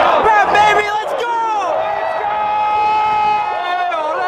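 Hockey fans in a Buffalo arena roaring and whooping, loud layered crowd cheers and shouts, with an arena horn sounding and a commentator's voice over the noise.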